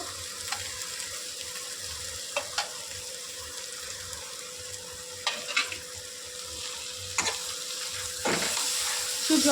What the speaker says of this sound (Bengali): এতে এবার আলুগুলোকে দিয়ে দেবো। আলুগুলো একদম সুন্দরভাবে সিদ্ধ করা আলু এবং ভাজাও হয়েছে। এবার এটাকে দিয়ে একটু নেড়ে নেব।